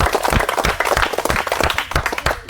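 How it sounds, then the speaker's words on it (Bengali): A live studio audience on a Bengali game show claps in quick, loud, steady bursts of applause, close and continuous for a couple of seconds. "আমার সহযোগীকে বলবো একটু তার জন্য হাততালি।"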